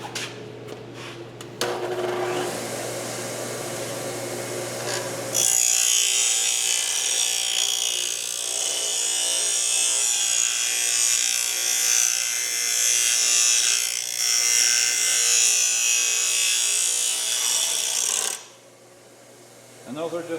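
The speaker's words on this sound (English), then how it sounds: "I'm just going to go to the grinder and I'm going to grind those corners out." Grinder working on the corners of a metal door part from a 1967 Mustang, a loud steady high-pitched whine lasting about thirteen seconds after a lower mechanical hum, then cutting off sharply at the end.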